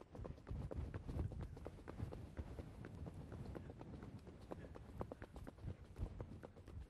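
Icelandic horse being ridden, hooves striking the ground in a quick, even rhythmic clip-clop that continues steadily at close range, fairly faint overall.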